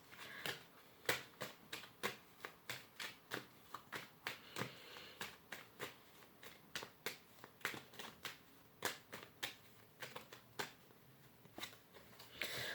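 Tarot cards being shuffled and pulled by hand, a long run of crisp, quick riffling snaps repeating in an irregular rhythm, close and fairly quiet with no talking.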